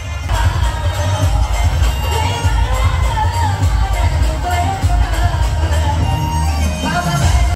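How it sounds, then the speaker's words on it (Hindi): Dense street crowd celebrating Ambedkar Jayanti, a steady wall of loud cheering, shouting and children's voices with low rumbling music-like drone throughout, no break in the noise. "कितनी सारी भीड़ है और कितने अच्छे से मना रहे हैं लोग"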